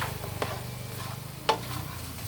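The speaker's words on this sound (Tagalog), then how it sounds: "Haluin natin." A ladle stirs a pot of pinakbet vegetable stew, giving two distinct scraping clatters over a steady low sizzle and hum; no one speaks.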